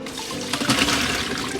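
Potatoes are rinsed under a strong rush of running water in a colander, a loud, close, continuous gush with no talking.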